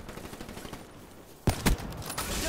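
Gunfire in the video game Call of Duty Black Ops III: after a quiet stretch of game ambience, a sudden loud burst of several close shots lands, followed by more scattered firing and rising battle noise.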